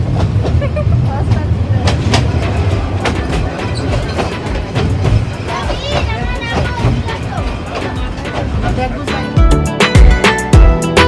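A train rumbles steadily along the rails toward Kuliarchar station via Bhairab, with rhythmic clacking and metallic squeals, voices chattering faintly beneath the loud, continuous noise.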